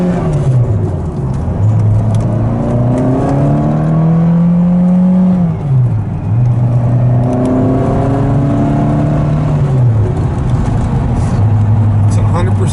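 A Lotus Esprit V8 engine with an aftermarket exhaust revs up and down repeatedly, its exhaust note rising in pitch through gears, loud and close, with people talking over it.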